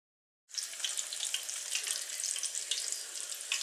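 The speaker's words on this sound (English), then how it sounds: "Fry on medium-high heat. If the peanut oil is not hot enough, the coating won't get crispy" Chicken fries in hot peanut oil over medium-high heat, a steady close crackling sizzle that starts abruptly after a brief silence and keeps going evenly with no voices.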